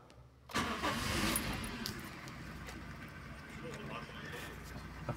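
A car engine cranks and fires up after its immobilizer has been removed, then settles into a steady idle, loud and close, with a voice talking over it.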